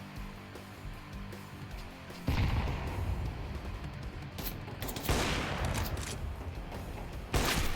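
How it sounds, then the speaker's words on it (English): Video game gunfire shooting through walls, loud dense bursts of rapid shots and crashing impacts that swell and surge in waves, close and harsh with no talk over them. "They're shooting through the walls."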